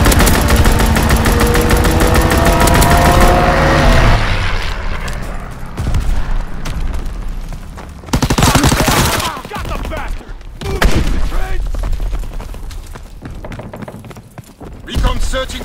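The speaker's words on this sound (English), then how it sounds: "Fighter pilot inbound, strafing the target." A fighter plane strafes the ground in Call of Duty WWII multiplayer on Pointe du Hoc. Loud dense bursts of gunfire and impacts dominate, then give way to scattered shots and game voices.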